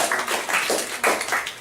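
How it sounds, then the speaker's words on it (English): Applause from a comedy club audience, a steady wash of many hands clapping at close range for under two seconds, with no voices over it. "Round of applause."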